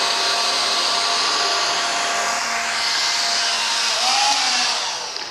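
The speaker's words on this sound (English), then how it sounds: "So we're actually going to start with a competitor vacuum." A cordless stick vacuum cleaner makes a single pass over flour spread on a black acrylic surface, giving a steady, loud whirring motor drone throughout with a slight rise near the end.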